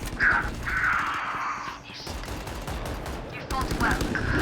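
Gunfire in the first-person shooter Valorant, a light, easy-recoil gun fired in quick bursts. The sharp cracks repeat in clusters through the clip and sound loud and close, with a short gap in the middle.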